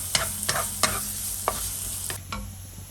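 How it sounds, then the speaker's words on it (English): Chopped garlic cloves frying in a little cooking oil in a wok over high heat, a steady sizzle cut by several sharp scraping stir strokes at irregular intervals, close and fairly loud with no talk. "Add in 3 to 4 cloves of chopped garlic and fry them until fragrant."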